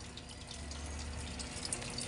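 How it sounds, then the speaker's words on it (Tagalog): A Samsung Wobble 7.5kg washing machine fills with water, giving a faint, steady trickle and low hum with no talk over it. "So nagkarga na siya ng tubig, hintayin natin."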